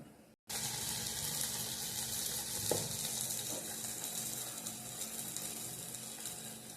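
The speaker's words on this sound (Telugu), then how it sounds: "గారెల్లాగా చేసుకొని ఇప్పుడు ఆయిల్లో వేసుకుందాం" Urad dal vadas drop into hot oil and fry, a loud continuous hissing sizzle starting abruptly after a brief silence, with a faint clink partway through and no speech.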